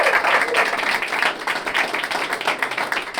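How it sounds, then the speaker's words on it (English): An audience applauds with dense, steady clapping from a crowd at an interview event, filling the whole stretch at an even, lively level. "Give her a round of applause."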